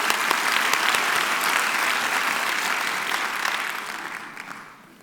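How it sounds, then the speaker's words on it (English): A crowd applauds at a nursing pinning ceremony, with many hands clapping in a full, steady burst that gradually thins and fades away toward the end. "please give yourself a big round of applause"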